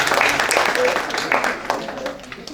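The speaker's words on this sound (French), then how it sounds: "Je pense que ça applaudit" An audience at a round-table discussion on entrepreneurship claps briefly, a loose patter of hands that fades over a couple of seconds, mixed with background voices.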